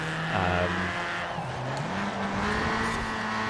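A Mugen race car in Forza Horizon 4 revs hard, its engine pitch climbing and shifting as tires squeal through a skid, loud and close with no talk.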